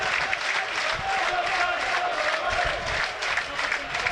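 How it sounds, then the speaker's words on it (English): Football stadium crowd at a Burnley v Everton Premier League match, a steady, fairly faint wash of applause and crowd noise running under the whole stretch, with no single standout shout. "Crowd just trying to get behind the team."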